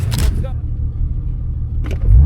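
A rally car in Press Rally 2026 pulls away near the finish at Nida, its engine a heavy, close low rumble. Short voices break in at the start and end of the drive-off.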